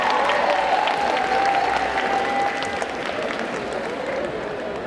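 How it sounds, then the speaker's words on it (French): An audience at a cosplay contest at a convention breaking into sustained applause, dense clapping that fills the room and gradually eases off, with a host's voice faintly over it. "Donc on applaudit très fort Kurami."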